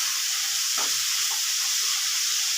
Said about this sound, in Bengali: ফুলকপি আর আলুটাকে একটু ভালো করে ভেজে নিতে হবে।